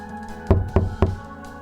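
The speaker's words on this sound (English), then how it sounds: "Her hand trembled slightly as she raised it to knock" Three firm knocks land on an office door in an even rhythm, close and distinct against a quiet room.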